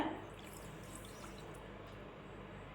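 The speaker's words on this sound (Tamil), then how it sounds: "அதனால் இதை வந்து முக்கால் கப் அளவுக்கு நான் தண்ணி சேர்த்துக்கிறேன்" Water poured into sugar in a wide pan while making Mysore pak sweets, a steady trickling pour at close range with no talk.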